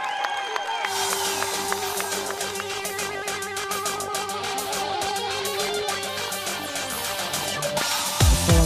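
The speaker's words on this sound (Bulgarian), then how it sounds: "Ваши аплодисменты." Applause and cheering from a stage audience greet a performer, a dense wash of clapping under loud, steady music that runs the whole time, with a sharper burst near the end.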